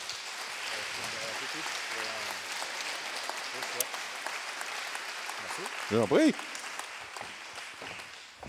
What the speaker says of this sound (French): Et voilà, on vous applaudit chaleureusement.